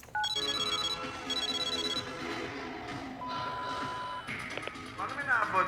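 A telephone rings in a Persian drama, sounding as repeated electronic ring bursts with short pauses between them, followed by a higher tone. Faint voices and other background sounds sit under it.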